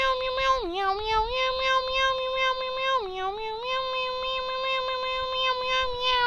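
A voice sings a repeated, melodic meowing tune in steady rhythm, imitating a cat, clear and close with no other sounds.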